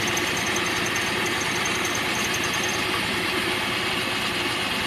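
A steady, rough engine of an Easyride 150N motorcycle idling close by, with a constant rattling mechanical clatter from a noisy side part and broad hum that holds unchanged throughout.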